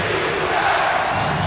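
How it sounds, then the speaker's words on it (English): A basketball arena crowd at a 1990 Bulls vs Cavaliers game roars in a dense, sustained wall of cheering and shouting that stays loud throughout. "And the crowd is back in it with 7:40 remaining."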